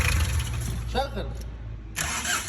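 Diesel car engine with a hard-start fuel pump fault, cranking and starting after the repair: a low rumble, a brief pause with a voice speaking, then a louder burst as the engine catches.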